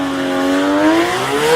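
A Nissan Sylvia radial car doing a burnout at a street challenge, engine revving high with a rising tone and tyres squealing, loud and close, no talk.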